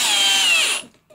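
A power drill driving a screw into a folding wall shelf, one close, high whining burst that runs steadily and then cuts off abruptly, leaving near silence.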